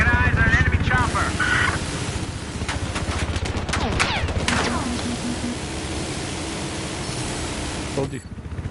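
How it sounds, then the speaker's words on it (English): Battlefield 4 gameplay with an enemy helicopter roaring overhead amid bursts of gunfire and explosions, loud and continuous, with some voices mixed in. "I got eyes on an enemy chopper."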